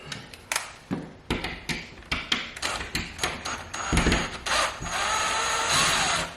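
A power drill fitted with a MAEXUS flexible drill bit extension boring into a drywall test corner: rapid tapping bursts first, then a sustained, close grinding whir as the bit works through, loud and with no talk.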